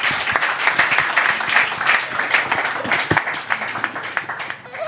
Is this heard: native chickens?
no